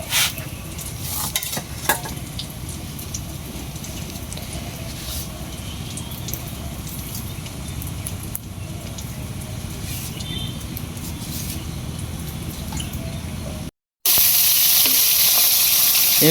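Fish fries in hot oil with a dense, steady spattering sizzle and occasional sharp pops and stirring clinks, then cuts briefly to silence before a louder, harsher hiss returns at the end.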